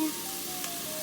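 Vegetables sweat in a pot for beef stew with a soft, steady low sizzle, fairly quiet and close, with a faint stirring scrape partway through.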